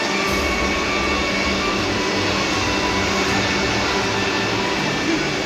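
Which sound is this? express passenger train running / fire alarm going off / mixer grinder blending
express passenger train running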